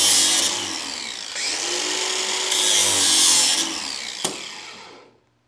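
American Sharpener Model 5005 grinding a mower blade, a loud, close, continuous abrasive whine and rasp that surges in several passes, then stops with a sharp clack and winds down to silence.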